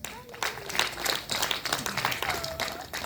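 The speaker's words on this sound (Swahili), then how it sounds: "Jipigeni makofi." Audience at a church talk at Mt. Agustino, Salasala, clapping in a steady patter of hand claps for about three seconds, mixed with crowd voices and a few raised cheers.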